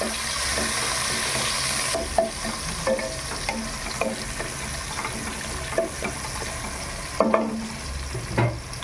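Chopped onions frying for a mutton bone dalcha, with a steady sizzle in the pan and scattered scraping clicks as a spoon stirs them, moderately close with no talking.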